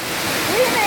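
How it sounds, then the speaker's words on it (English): A waterfall on a trail in St. Lucia, a dense, steady roar of rushing water close by and loud across the whole short moment, with no talking. "Last waterfall."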